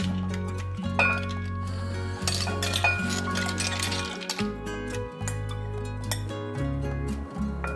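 Seafood tipped into a metal cooking pot for a Japanese-style seafood paella, with a series of clinks, knocks and clatters as the pieces drop in and settle, fairly close and fairly quiet, heard alone.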